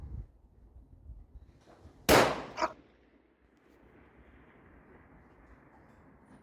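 A single sharp, loud rifle shot from an F-Class Remington rifle at a 1000-yard range, with a quick echo trailing it, against quiet outdoor ambience and a faint hum afterward; a voice speaks a word just before.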